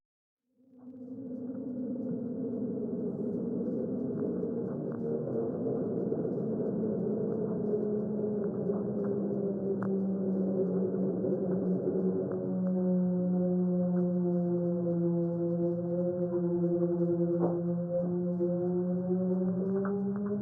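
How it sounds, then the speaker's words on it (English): A low, sustained droning hum of Antarctic wind and natural sounds, with layered tones that waver and shift in pitch, moaning steadily across an open landscape. "this is a very mysterious sound that is a combination of wind and natural sounds from Antarctica"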